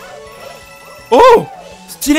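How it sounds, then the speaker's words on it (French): A cartoonish dog barks in the Super Mario Bros. Wonder video game, two short yelping barks close together over game music, with someone talking briefly. "c'est le chien qui aboie"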